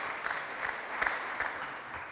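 A small audience of just a handful of people applauding in St David's Hall, Cardiff, after a song at a singing competition; thin, steady clapping with a few louder claps, no crowd roar.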